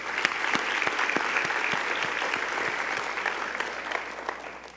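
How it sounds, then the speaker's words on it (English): An audience applauds student singers and performers at a school district address, giving sustained, dense clapping that holds steady for several seconds, with no voices over it. "Can we give them a round of applause once again?"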